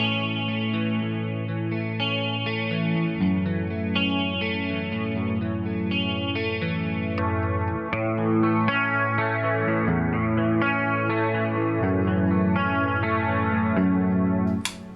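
An electric guitar with a single-coil pickup plays broken chords, its notes ringing out one after another in a bright, sustained, slightly effected tone that stays steady and loud, with no talking.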